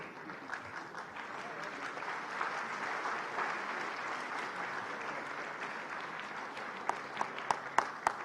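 An audience at a literature festival award ceremony applauds steadily, a dense wash of many hands clapping at moderate distance, with a few louder, closer claps standing out toward the end.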